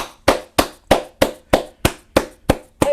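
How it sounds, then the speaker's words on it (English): Claps from an online poetry slam audience come through as one set of hands striking at an even pace, about nine sharp, close, resonant claps, each quickly fading, with nothing else heard. "And now unmute and clap."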